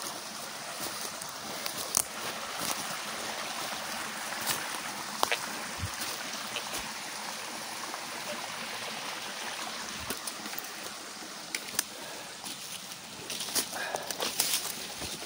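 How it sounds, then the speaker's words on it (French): A shallow stream flowing through a forest, a soft continuous water babble at moderate distance with scattered small splashes and rustles, no speech. "on est arrivé au ruisseau. Donc il y a bien de l'eau"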